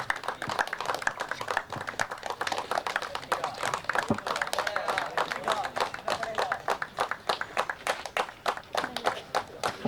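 An audience applauds at a cricket association T20 tournament award ceremony, with a continuous patter of many hands clapping at moderate distance and a voice speaking briefly over it.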